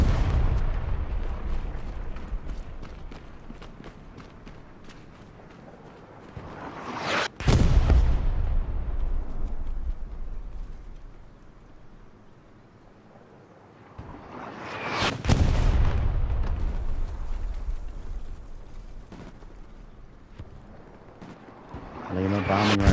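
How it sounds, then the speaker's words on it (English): Bombing-run explosions in the video game Hell Let Loose: two heavy, loud blasts about eight seconds apart, each a sharp crack followed by a long rumbling roll that fades before the next strike. "Be reassured I've got a bombing run on Juan 71."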